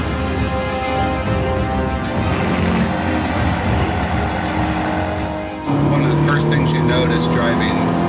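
A Ferrari California T is driven hard, its engine droning loudly and steadily up through the revs, briefly dipping at a gear change before surging back with a stronger, rasping note.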